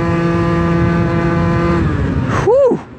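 A car engine holds a steady note under load, then its pitch sweeps sharply up and back down in a quick rev as the driver gives some throttle, loud and close throughout with no talking.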